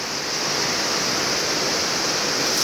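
Heavy rain pouring down with floodwater flowing across the ground around a rural Thai house, a dense, constant rushing wash without pause or voices.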